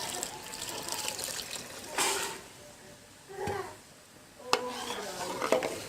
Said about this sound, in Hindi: अब इसके अंदर हम बादाम वाला वो महलूल डालेंगे।